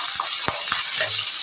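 Onion and green chilli pieces fry in hot oil in a pan, a loud, steady hiss of sizzling with a few soft clicks of stirring.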